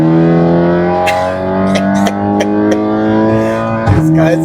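A Golf GTI MK7 Stage 3 rated at 450 cv accelerates in Sport mode with its exhaust open, a loud, steady engine drone rising in pitch, with occasional sharp pops and people talking over it from inside the car.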